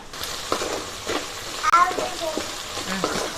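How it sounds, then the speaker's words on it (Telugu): Onions fry in hot oil over a high flame, a soft sizzle heard under brief bursts of nearby talking and a few utensil clinks. "కొంచెం ఉల్లిగడ్డలు ఇవన్నీ వేసుకోవాలి ఫస్ట్ నూనెలో వేపుకోవాలా"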